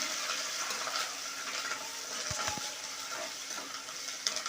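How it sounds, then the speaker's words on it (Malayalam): Dried red chillies and curry leaves fry in a pan for a banana flower stir-fry, giving a steady soft sizzle with a couple of low clunks of stirring near the middle, no voices. "കുറച്ച് കറിവേപ്പില ഇട്ട് കൊടുത്തിട്ടുണ്ട് എല്ലാം കൂടി നന്നായിട്ടൊന്ന് വഴറ്റണം"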